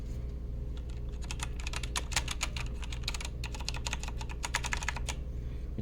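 Rapid typing on a cheap FELiCON mechanical RGB keyboard at a cluttered desk, a dense run of crisp clacking keystrokes in irregular bursts over a low steady hum, close and clear, with no voice.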